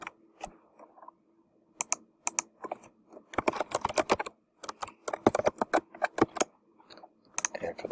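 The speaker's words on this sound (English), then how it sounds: "I'll just type it in there." Fingers type on a computer keyboard in quick, close clicking bursts, sparse at first and then a dense flurry of keystrokes, with no talking.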